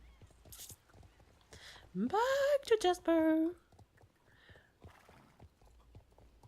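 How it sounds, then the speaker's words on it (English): Horse hooves clip-clop on the ground in the Star Stable video game, a quick run of hoofbeats followed by a whinny, fairly clear, with a player talking around it. "Oh, new horses."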